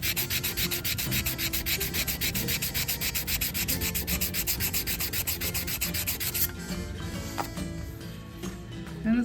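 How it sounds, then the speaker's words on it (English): Sandpaper rubbed by hand over stainless steel car trim in steady, rapid back-and-forth strokes, loud and close, stopping near the end and leaving quieter handling noises. "And give it a little sandpaper"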